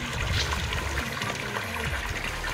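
Water pours steadily from a solar pump pipe by gravity, a dense, continuous rushing gush heard up close and filling the whole stretch with no pauses.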